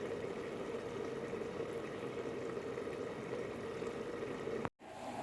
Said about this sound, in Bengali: হালকা করে পরোটা ভাজা চলছে